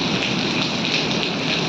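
Hail and heavy rain pour down together in a steady, dense hiss with a fine pattering texture, close and continuous with no voices, during a March storm over farmland.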